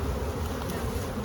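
A honeybee swarm about 18 feet up in a tree fills the air with a dense, continuous buzzing hum, close and loud with many overlapping wingbeats.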